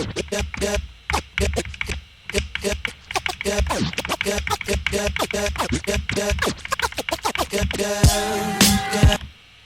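Rapid DJ scratches on a record through Serato DJ come as sharp, rhythmic forward strokes only, with dense bursts of quick cuts building to a flurry near the end, close and loud with no talking.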